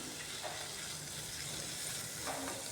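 Potatoes and onions sautéing with spices in a pan, a steady continuous sizzle with faint stirring scrapes, close and even in level, no voices.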